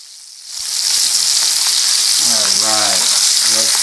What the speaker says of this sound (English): make sure that I have a good sear on both sides here